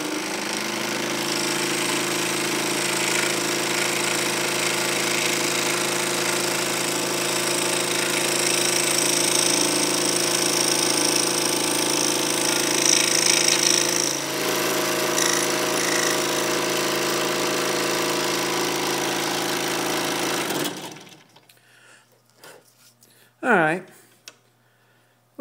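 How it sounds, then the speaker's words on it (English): A scroll saw cuts wooden segment pieces with drilled holes for a segmented potpourri box, a loud steady buzzing drone running continuously for about twenty seconds before stopping abruptly, followed by a brief faint sound. "scroll saw out all those pieces that are with the holes drilled in them"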